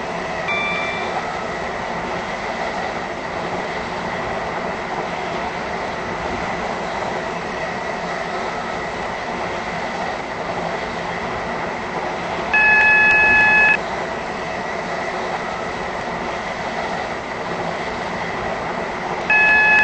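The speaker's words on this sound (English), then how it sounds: "Please mind the gap between the train and the platform" A steady rumbling hum of an airport terminal shuttle train running between terminals, with a brief electronic chime partway through and another at the end.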